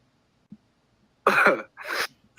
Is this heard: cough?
yes